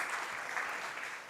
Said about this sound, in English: A round of applause to all the people who presented.